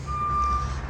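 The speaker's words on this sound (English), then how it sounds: "If you hear that beeping, means the truck is backing up." A truck backing up at a backyard pond construction site sounds a single steady reversing beep over a low engine rumble, moderately loud and a little distant.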